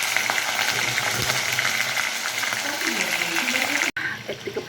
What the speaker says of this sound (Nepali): यत्तिको पाक्दैछ, भुट्दैछु अझै